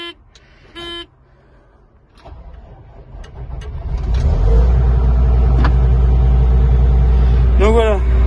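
A machine's engine cranks and catches, then settles into a loud, steady low running drone that continues to the end, with a brief horn-like toot near the close and some voice and handling noises before the start.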